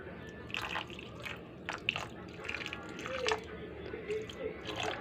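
Tiny alamang shrimp being washed in water, with small drips, splashes and wet squishing in irregular bursts, faint and close, over a low background hum.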